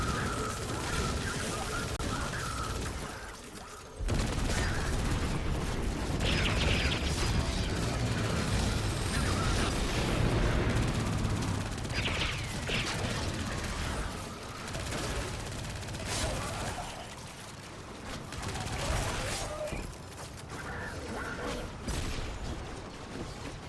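A submachine gun named Submission fires in a video game in long, loud, continuous bursts with a brief pause near the start, over booming, mechanical game noise.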